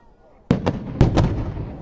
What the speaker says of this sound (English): So when you do fireworks, there's always the part that everybody waits for.